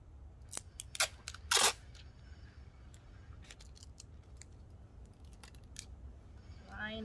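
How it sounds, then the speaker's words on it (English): Crisp scissor snips cutting tape in a few quick bursts, followed by lighter clicks and rustling, close and fairly quiet. "So again, I use my scissors and my tape."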